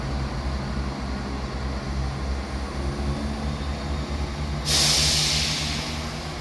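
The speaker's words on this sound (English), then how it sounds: "Departing out now is the 12:23 Scotrail service from Cowdenbeath to Edinburgh Waverley." A ScotRail service from Cowdenbeath pulls out of Edinburgh Gateway station with a steady low diesel rumble, then a sudden loud hiss of air bursts in near the end and lingers. No voices are heard.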